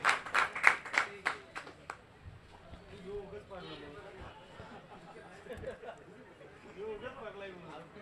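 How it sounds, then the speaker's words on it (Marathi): Spectators at a village cricket tournament clap in a short burst of loud, sharp claps that quickly fades into crowd chatter and murmuring voices. "अभिषेकच्या या खेळाडू वृत्तीसाठी जरा मित्रांनो एकदा जोरदार टाळ्या होऊन जाऊ द्या."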